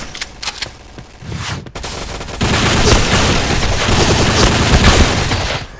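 Gunfire and grenade blasts in the online shooter Point Blank: a quieter stretch of scattered shots, then a loud, dense barrage of rapid automatic fire and booms that keeps going to the end.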